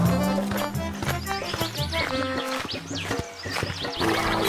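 Horse pulling a carriage in an animated Hindi story, hooves clip-clopping in a steady rhythm amid a busy mix of music and other animal sounds, with no clear talk.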